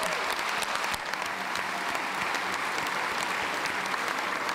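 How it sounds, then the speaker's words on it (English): Sustained audience applause for a speaker at an education speaker-series event, a dense, steady wash of clapping heard close and loud throughout with no talk over it. "Let's give her another round of applause."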